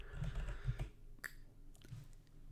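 Typing on a computer keyboard while entering a Chocolatey command for a RabbitMQ installation on Windows: a quick cluster of close keystrokes, then a few sparse, isolated taps.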